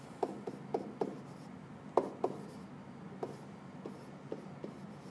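Pen or marker writing out a math equation by hand: scattered short taps and scratchy strokes, close and fairly quiet, with no talking.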